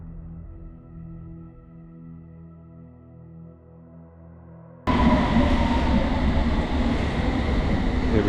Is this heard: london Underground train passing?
yes